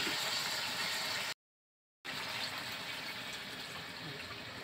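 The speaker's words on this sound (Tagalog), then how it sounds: "Basta dagdagan ko siya ng tubig." Water pouring steadily into a pot of pork rib caldereta, a continuous rushing splash that cuts out briefly and then resumes.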